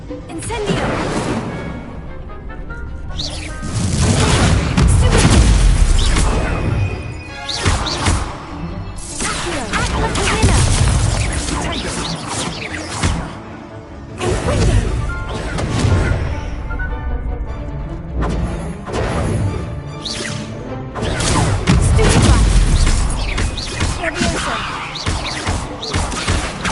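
Fire and blast spells go off in a Harry Potter video game, with loud crashing bursts, whooshes and booming impacts arriving in repeated waves over game noise and music, with voices calling out in places.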